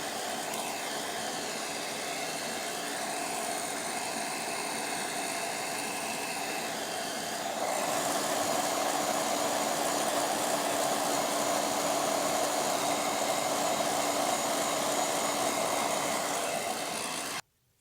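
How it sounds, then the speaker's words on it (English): A steady, close whooshing hum of a hair dryer blowing continuously on wet glue, growing slightly louder partway through, then cutting off abruptly. "We have to dry it using a hair dryer until the glue becomes transparent."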